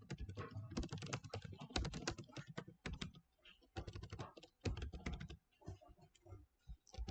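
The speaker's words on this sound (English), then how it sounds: "I will now type" Rapid clattering keystrokes on a computer keyboard, close and steady in dense runs broken by short pauses, with no talking.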